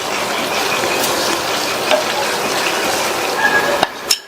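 Boiled baby potatoes stirred into masala in a pan, a continuous sizzle with scraping and a few sharp clanks of the spoon against the pan near the end.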